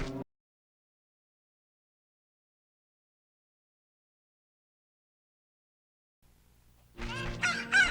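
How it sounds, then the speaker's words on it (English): A cucco chicken in Zelda: Ocarina of Time gives a short burst of clucking at the very end, after several seconds of near silence and a low hum. "Yep, we got a chicken."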